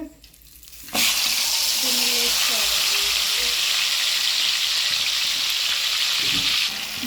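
After a brief quiet moment, a loud sizzle bursts up as a whole chicken hits hot oil, then crackles steadily before easing slightly near the end.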